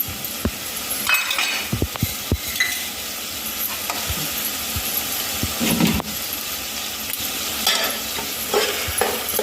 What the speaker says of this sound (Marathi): सर्व जिन्नस एकजीव करून घ्यायचं